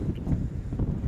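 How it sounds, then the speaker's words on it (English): Strong wind buffets the microphone with a low, gusty roar that swells and dips throughout the short moment. "it is so very windy that I've had to put my hood up"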